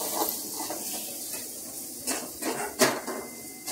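Potato filling for frankie stirred and mixed with spices, chilli powder and turmeric in a pot, a spoon scraping and clinking against the metal in a few sharp knocks near the end.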